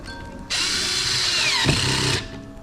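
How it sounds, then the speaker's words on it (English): A power tool runs steadily for under two seconds, a mechanical whir with a brief ratcheting burst, tightening a clamp onto a pipe cap sealed with dried hairspray, close and fairly loud with no talk. "Let's get her tightened back down here."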